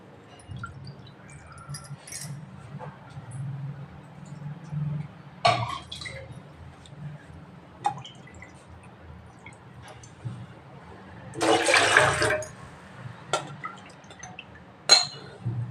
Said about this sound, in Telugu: బెల్లం ఎన్ని కప్పులు వేసుకుంటే అన్ని వాటర్ పోసుకోవాలి